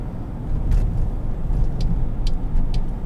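A 2017 Chevrolet Silverado 1500 High Country on low-profile tires rolls over road bumps, a steady low rumble of road and engine noise inside the cab broken by a few faint light knocks.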